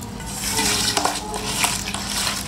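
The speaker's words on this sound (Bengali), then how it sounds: "এখন আমি সবগুলাকে ভালো করে একসাথে মেখে নিচ্ছি" Ingredients for a Thai soup are stirred together in a pot, with repeated scraping, clinking metal-on-metal knocks and a faint sizzle underneath, close and fairly loud.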